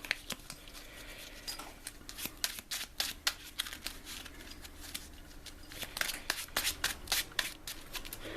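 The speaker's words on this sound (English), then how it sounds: "quick shuffle, throwing cards all over the table for some reason." Marvel Champions game cards being shuffled repeatedly on a table, crisp riffling bursts and flicks in quick succession, close up, with no talking.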